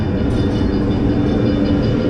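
A ghost train ride car at Blackpool Pleasure Beach rumbles along its track, a loud steady low rattle and clatter heard from on board with no talking.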